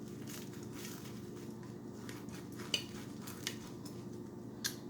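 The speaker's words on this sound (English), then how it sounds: "Let's cut into one." A knife cutting into a homemade cabbage egg roll, soft crunching and scraping on a plate with a few sharp clicks of the blade, close and fairly quiet.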